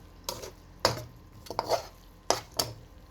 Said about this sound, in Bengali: এখন খুব ভালো করে নেড়ে নামিয়ে নেব